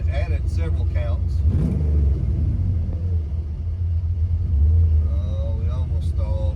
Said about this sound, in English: Let's flip the throttle.